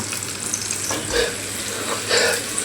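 Crispy chicken fries in hot oil with a steady, close sizzle and crackle that swells briefly twice.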